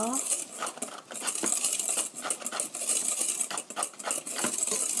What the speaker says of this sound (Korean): 잘 섞이도록 섞어주시고요